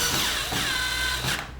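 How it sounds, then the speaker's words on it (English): A power driver runs steadily as it drives screws into a door hinge, giving a continuous close whirring motor tone with slight pitch shifts and no talking. "insert the screws using your power driver"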